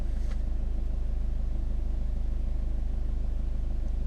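Steady low combustion car engine running, a constant rumbling throb close by with a slight puffing pulse, alone without talk.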